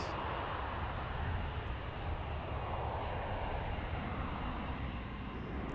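Airliner arriving at DFW airport, heard from a plane spotting area: a steady, broad engine roar that holds at an even level throughout, distant and without talk.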